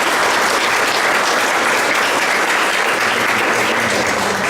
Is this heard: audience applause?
yes